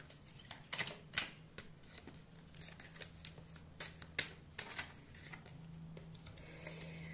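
Playing cards are handled and one is drawn during a reading, producing soft sliding and shuffling rustles broken by several crisp, quick snaps at irregular intervals, close and fairly quiet.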